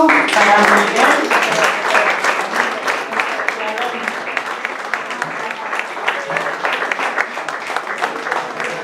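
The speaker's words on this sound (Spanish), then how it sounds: "Un fuerte aplauso para Miguel." Loud, sustained audience applause at a poetry evening, a dense crowd of clapping hands that fills the room and slowly thins out.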